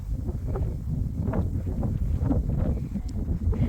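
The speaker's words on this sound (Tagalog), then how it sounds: "Mahangin ngayon." Wind gusts across a steep mountain trail in Benguet, a low continuous rushing and buffeting against the microphone with faint rustling, steady throughout.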